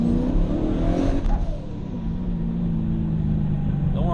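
A turbocharged Chevrolet Camaro 1LE revs hard and loud, its rising engine note easing off as the car pulls away, then settling into a steady drone with faint voices underneath.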